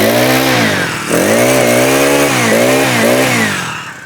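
A heavy Hybrid 3.5 HP small petrol engine, sold for paddy cutting and earth drilling, runs loud and close just after starting, its pitch dipping and rising in repeated revs before slowing near the end.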